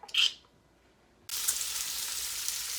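Meat frying in a pan: a short hissing burst fades into near quiet, then a loud, steady, close sizzle starts abruptly and holds to the end, with no talking.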